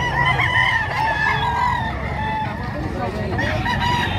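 Roosters crowing repeatedly at a busy gamefowl market in Padre Garcia, Batangas, loud and overlapping with clucking fowl, while people talk nearby.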